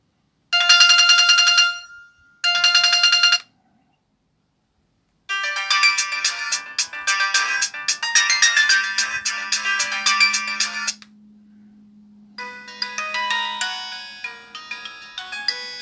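A Chinese imitation of a Samsung E1200 mobile phone plays a ringtone of bright electronic melodies loudly through its speaker, in a couple of short bursts and then longer repeating phrases, with no one talking.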